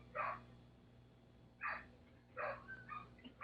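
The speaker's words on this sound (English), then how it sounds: "the dogs are just barking up the stream" Dogs bark somewhere in the background behind a podcast livestream, giving three or four faint, distant yips and barks over a steady low hum.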